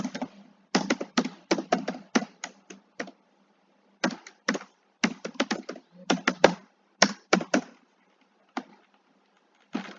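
Typing on a computer keyboard while filling out an online form, heard as close, rapid bursts of key clicks in short runs separated by brief pauses.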